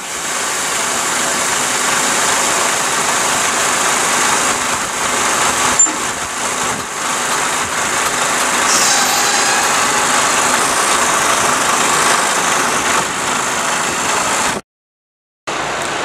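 Tractor unit of a truck rumbling as it pulls forward to uncouple from a tarpaulin-covered trailer, a loud steady diesel drone with brief louder surges, cut by a short gap of silence near the end.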